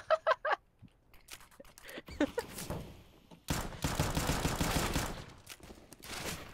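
Automatic AK rifle gunfire in CS:GO, a few sharp shots at the start, then a long dense burst of rapid fire. Voices are faintly mixed in between.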